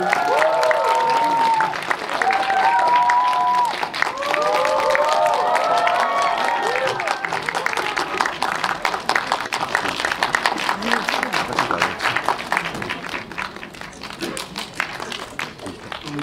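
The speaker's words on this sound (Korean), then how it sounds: "큰 박수로 맞이해 주십시오" A cinema audience at a Seoul CGV film talk event applauds a guest arriving on stage, with sustained clapping and crowd noise over music-like tones, while people talk through it.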